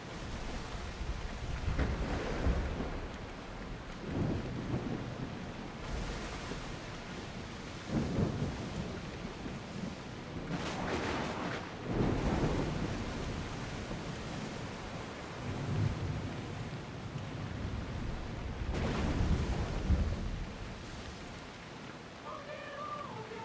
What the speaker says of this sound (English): This is gonna take a while because of the storm now.